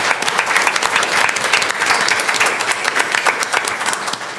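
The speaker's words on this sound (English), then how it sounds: "Let's give her a big round of applause" An audience at a city council meeting in Gadsden breaks into sustained applause, dense steady clapping from many hands that carries at an even level throughout.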